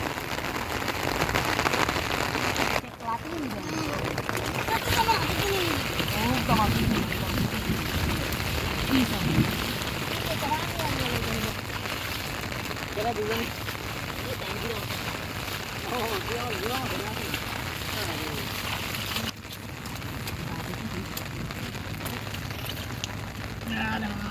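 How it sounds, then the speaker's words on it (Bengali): Dense, continuous downpour hissing and drumming on surfaces during flooding, close and loud throughout, with faint voices murmuring underneath. "দারুণ বৃষ্টি বৃষ্টি আর বৃষ্টি"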